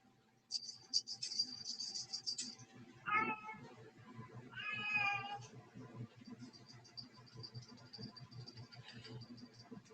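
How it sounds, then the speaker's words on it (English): A pet cat meows several times in a quiet home, with short high calls spaced a few seconds apart, fairly close and clear over a low background hum; no speech accompanies it. "That was Meow Meow."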